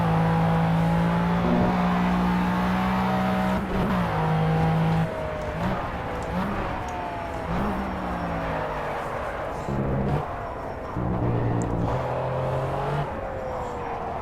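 McLaren F1 race car in Project CARS at Le Mans: a loud, steady engine roars close throughout, dropping pitch at gear shifts and climbing again as it revs through the gears.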